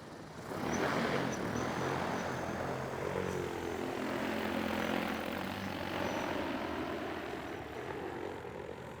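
A drone flying a GPS mapping run gives off a steady, even motor and propeller whine that holds for several seconds at moderate distance, with no voices.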